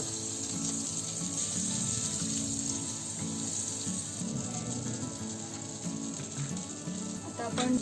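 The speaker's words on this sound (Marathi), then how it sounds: "पॅन गरम करायला ठेवलंय आपण. त्याच्यामध्ये ना हे बटर टाकायचं." Butter sizzling in a hot pan while a veg chili gravy is being started, a continuous close hiss and crackle that stays steady throughout, with no voices.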